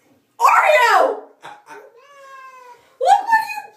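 A cat yowls and growls in protest during a bath, drawn-out wavering cries near and loud, with a pause and then another rising complaint, while a person talks over it.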